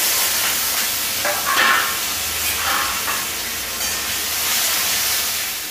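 Chopped onions frying in hot mustard oil in a home kitchen, a steady, loud, close sizzle and hiss that continues unbroken, with faint stirring scrapes.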